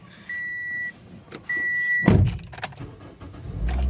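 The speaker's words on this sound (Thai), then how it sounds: "เดี๋ยวผมจะสตาร์ทให้ฟังเสียงเครื่องยนต์กันด้วย" A couple of electronic chimes sound, then a 2011 Toyota Corolla Altis 1.8 E engine cranks with a sharp burst and settles into a low, rumbling idle close by.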